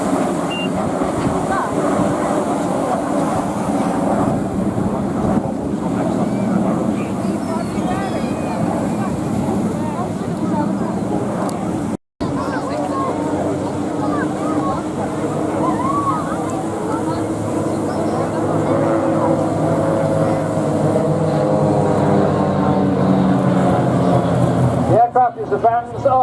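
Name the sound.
Vans RV aircraft with 180 hp piston engine flying at air show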